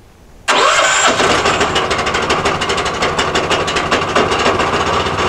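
A sawmill engine starts with choke on, cranking briefly after a quiet moment and then catching into a loud, rough, steady running rumble close by.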